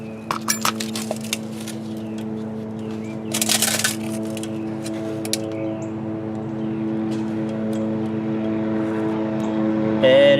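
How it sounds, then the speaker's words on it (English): A low-flying helicopter passing overhead during work on a 2009 Hyundai Santa Fe, its steady droning hum holding throughout beneath sharp metallic clinks of tools and parts. "That's a low-flying helicopter."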